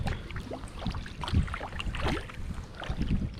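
Kayak paddle strokes dip and pull through the water in gusty wind, soft splashing and dripping sounds rising and falling under steady wind noise on the microphone.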